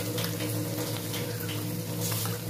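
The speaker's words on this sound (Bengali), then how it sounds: "এবার সসের বাটিটা দিয়ে একটু জল দিয়ে দেবো।" Water running steadily from a tap or being poured into a bowl that held sauce, a continuous close splashing flow with a low hum underneath, no speech.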